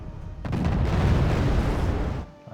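Chieftain Mark 5 tanks exchange fire with M1 Abrams in the video game WarGame Red Dragon, and a loud burst of blended explosions rumbles for about two seconds before cutting off.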